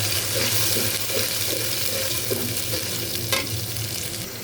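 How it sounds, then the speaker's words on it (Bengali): Onion, ginger, garlic and cumin paste sautéing together in a pot, a steady close sizzle with occasional scraping stirs and a brief clatter near the end, no voices. "মশলার সাথে সব একসঙ্গে আমি কষাই নিব ভালো করে"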